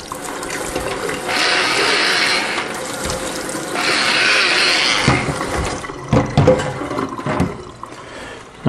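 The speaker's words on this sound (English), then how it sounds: "I'm gonna rinse this off quick while it's still liquidy." Water runs from a tap to rinse something off, two steady bursts of hissing flow of a few seconds each, followed by clunks and handling noises near the sink.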